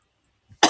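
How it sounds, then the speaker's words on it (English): A single sharp, loud cough bursts out close by at the end of an otherwise near-silent moment during a Scottish Premiership football round-up. "ignore the coughing."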